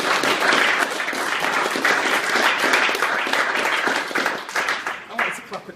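Audience applause at a Raspberry Pi project show and tell, a loud, dense round of clapping from a roomful of people that tapers off near the end, with voices talking over it.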